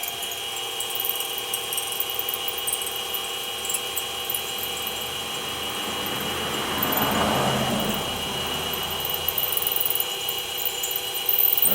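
A power drill bores a hole through metal on a homemade grinding wheel balancing fixture, a steady high whine with a rising grinding surge midway as the bit works through, close and continuous, no talking.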